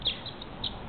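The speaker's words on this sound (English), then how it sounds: "a little bird going crazy like that in the morning, in the wee hours" A barn swallow chirps before dawn: a few faint, high, quick notes spaced across a quiet background.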